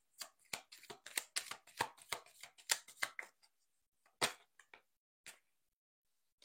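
Tarot cards are shuffled and drawn in a quick run of crisp papery riffles and slaps, then a few sparse flicks and taps as single cards are laid down, close and fairly quiet with no talking.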